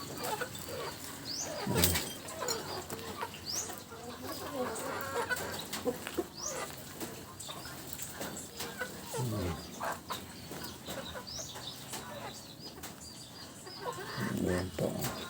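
Silkie chickens clucking in a small flock, scattered soft clucks and a few louder calls close by, with faint background noise and brief talk.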